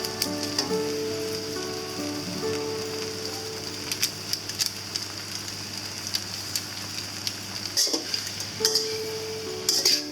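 Maggi goreng noodles with vegetables being stir-fried in a pan: a steady sizzle with scattered ticking spatters and a few louder scraping clatters, no voices.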